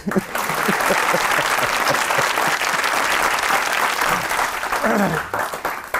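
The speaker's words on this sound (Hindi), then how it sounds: "तालियां बजाइए" Loud, close studio audience applause during a comedy talk show, a continuous burst of clapping that stays full and even for several seconds before briefly thinning at the end.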